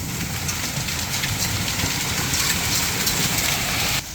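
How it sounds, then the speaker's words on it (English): Hail pours down steadily in a storm, a dense, continuous patter on the ground and surfaces lasting throughout, with a low engine-like rumble beneath and no voices. "we're starting to get some hail accumulation down here on the ground."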